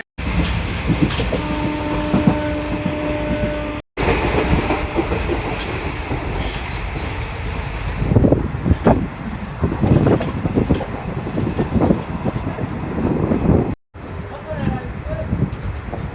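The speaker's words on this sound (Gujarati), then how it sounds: "આપણી ટ્રેન અહીંયા આવી રહી છે તમે જોઈ શકો છો" Passenger train pulling into Makansar station on the Wankaner–Morbi line, a continuous loud rumble with rhythmic wheel clatter and wind noise on the microphone, interrupted by brief cuts.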